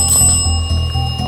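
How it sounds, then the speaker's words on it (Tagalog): A small bell on a ghost-hunting device in a reputedly haunted Japanese hospital is tapped, giving a few bright, close metallic rings that linger between strikes, with no voices. "You can tap the bell."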